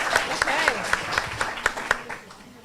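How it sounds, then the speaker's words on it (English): Brief applause from an audience at a public talk, a quick run of claps that thins out toward the end, with voices talking underneath. "Can we give a round of applause real quickly to Liza?"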